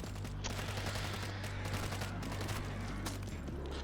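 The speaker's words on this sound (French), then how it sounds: "Tourelle auto." Automatic turret gunfire from World War Z rattles in a loud, unbroken stream of rapid shots, dense and close throughout.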